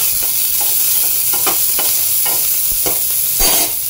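A small onion fries in hot oil in a pan alongside garlic, giving a loud, continuous close sizzle broken by repeated scraping stirs.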